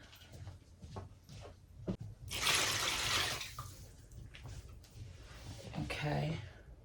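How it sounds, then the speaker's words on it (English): Cold tap water runs into a sink for about a second in a home kitchen while repotting a plant, a steady rushing splash that briefly rises above scattered clatter and a nearby voice. "Just gonna go in and add some cold water."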